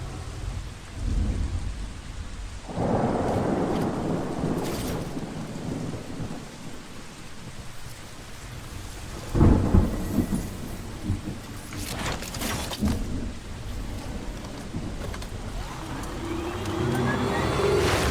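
Steady rain with rolling thunder from the video game Death Stranding 2, a constant wash of falling water broken by a loud thunder crack near the middle and further rumbles, with no voices.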